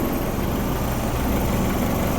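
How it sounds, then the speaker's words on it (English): A Honda H22 engine idles roughly and low, a steady broadband rumble with dense low-end vibration that holds constant throughout, close and fairly loud with no talking. "Even though it's idling like crap right now."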